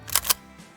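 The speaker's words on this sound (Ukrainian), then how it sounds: "І перше звук перезарядки." A pump shotgun being racked: a quick mechanical clack-clack, two sharp metallic clicks close together, up close with no talking.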